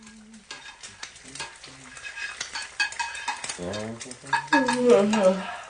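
Bacon frying and sizzling in a pan in a domestic kitchen, a steady close crackle with utensil scrapes and stirring clatter, while someone speaks over it.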